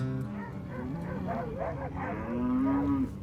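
Range cattle moo loudly and close as herding dogs bunch them up during a pasture gather, ending in one long drawn-out bellow.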